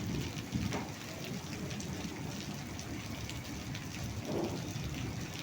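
Heavy rain pours steadily during a thunderstorm in Gadchiroli, flooding a stadium, a dense, constant hiss close by with a couple of brief louder gusts or rumbles and no talking.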